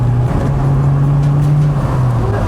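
A turbocharged Saab car engine drones steadily at close range with a sustained low hum, as if cruising under load, with faint road and wind noise around it.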